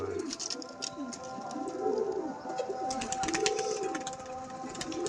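A flock of competition Madrasi pigeons keeps up a rhythmic, repeated cooing, each call a low rolling swell, heard close over a constant hum with light clicks and chirps.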